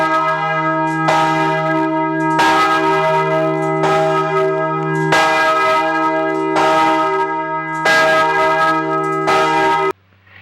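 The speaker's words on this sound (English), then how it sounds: "will someone please ring a bell?" A large bell rings in a slow, regular series of strong strikes, each leaving a rich ringing hum that carries into the next before cutting off near the end.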